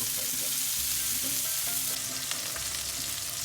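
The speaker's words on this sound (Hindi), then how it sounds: "तो अब तकरीबन 5 मिनट आपने इसको फ्राई करना" Okra (bhindi) frying in hot oil, a continuous crackling sizzle with occasional stirring scrapes and pops, close and steady throughout.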